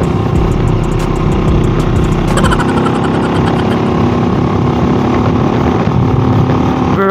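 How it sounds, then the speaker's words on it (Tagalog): Several motorcycles of different kinds ride together in a group on the way to a café in Silay City, their engines producing a loud, continuous, dense roar with overlapping revving throughout. "Variety of motorcycles."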